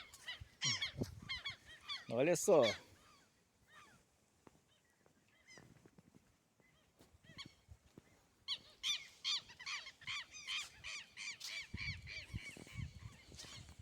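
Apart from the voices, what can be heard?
agitated seagulls calling by the Tocantins River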